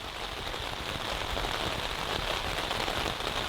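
Steady rain pours down outdoors in a continuous, close, full hiss that stays even throughout, with no voices.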